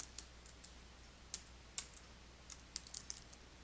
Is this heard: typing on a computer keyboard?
yes